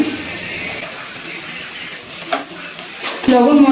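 Salt being stirred into fried spice masala in a pan for a cauliflower, potato and duck egg curry, soft close scraping and shuffling of a spoon over a light sizzle, with a louder clatter near the end.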